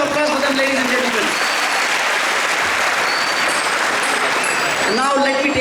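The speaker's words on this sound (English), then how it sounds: "Huge round of applause for them, ladies and gentlemen." Audience applause at an evening school diamond jubilee event in Mumbai, dense sustained clapping from a large crowd, with a speaking voice over the start and end.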